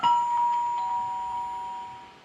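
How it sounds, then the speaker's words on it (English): A 2GIG Go Control security panel door chime rings a single ding-dong tone that decays slowly, clear and close in a quiet room. "So let's try ding dong with voice number 2."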